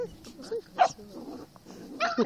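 A playful puppy lets out a few short yips and whimpery barks at close range amid scuffling, with people talking in the room around it.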